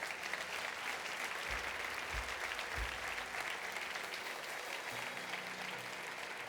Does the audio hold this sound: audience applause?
yes